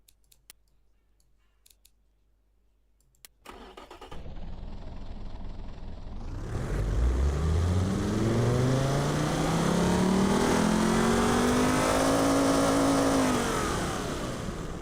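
An engine in the BeamNG driving game starts after a few clicks, then revs up, its tone climbing steadily and staying loud to the end.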